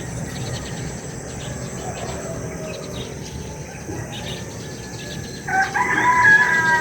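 Roosters crowing at dawn, a distant call rising near the end over a steady bed of insect and crickets, low rumble and ambient morning noise.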